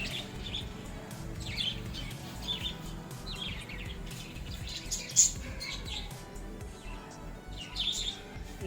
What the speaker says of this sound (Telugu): ఇక్కడ చిన్న చిన్న పిచ్చుకలు